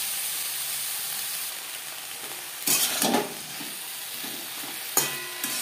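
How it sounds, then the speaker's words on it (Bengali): Mixed vegetables with salt and turmeric lightly frying in a pan, a soft, even sizzle and hiss interrupted by two louder bursts of stirring, close up with no voices. "সবজি হালকা করে ভেজে নেব।"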